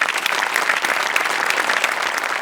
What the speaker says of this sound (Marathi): एकदा सचिन मोटेसाठी जोरदार टाळ्या.